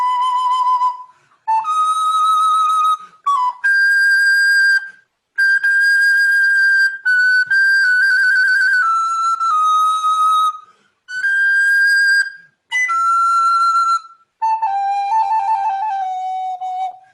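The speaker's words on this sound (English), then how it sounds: "I'm playing this on soprano recorder" A soprano recorder plays a melodic line in a woodwind masterclass, sounding an octave above written pitch like a piccolo; clear, pure sustained notes in phrases separated by short breaths, close and alone.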